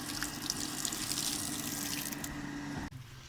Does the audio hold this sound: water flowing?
yes